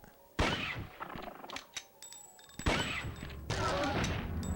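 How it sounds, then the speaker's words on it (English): Weapon fire in the Dino Crisis video game: several heavy, abrupt shots with thudding impacts, spaced irregularly, loud and close with game sound effects between them. "I assume that I can shoot it from over here."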